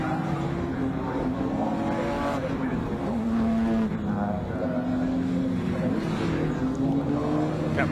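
Race cars with mostly 3.2 litre engines lapping Snetterton circuit, a sustained rising and falling engine roar heard from a distance and fairly faint throughout.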